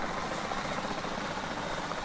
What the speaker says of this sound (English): There goes our helicopter.